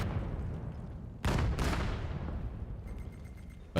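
Grenade blast in the VR shooter VAIL: a loud, sudden burst with a second sharp crack just after, then a long rumbling decay over steady low game noise.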